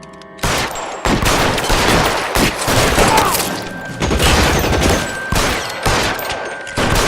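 Loud, close gunfire in a shootout in the video game L.A. Noire, with repeated heavy bursts of shots separated by short pauses and no talking over them.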